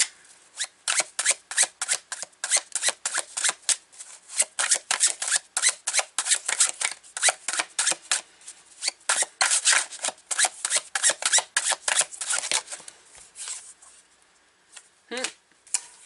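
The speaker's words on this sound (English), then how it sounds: "this deck makes a lot of noise when you are shuffling it" A noisy tarot deck is shuffled in rapid, dense riffling bursts of crisp card slaps that continue for most of the stretch and pause briefly near the end.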